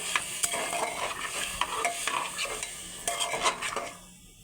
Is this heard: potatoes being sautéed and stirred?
yes